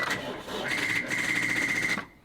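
A portable tire air compressor powered from a car's cigarette lighter gives off a strange, continuous buzzing whine with a sharp high tone, running steadily for about two seconds before cutting off.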